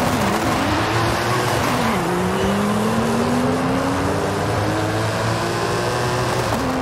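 A tuned race car in a Forza Horizon 5 drag event launches from low revs, the engine note climbing steadily through first gear with a shift around two seconds, then pulling on loud and continuous with no talk.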